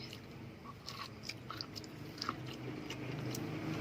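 Sweet corn being bitten and chewed close to the mic, with a series of crisp, juicy crunches scattered through a quiet, steady background and no talking.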